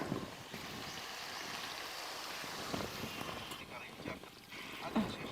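About one and a half cups of water goes into a pan of masala-coated chicken curry, heard as a soft, steady splashing pour with a low wash of noise underneath.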